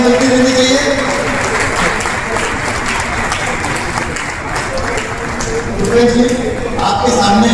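Loud, sustained applause from a crowd honouring five people at a public gathering in Khargone, with voices and cheering mixed into the continuous clapping.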